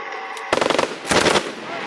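A Super SAW machine gun fires two rapid bursts on a range, the first of about eight crisp closely spaced shots, a short pause, then a second denser burst, loud and close over steady background noise.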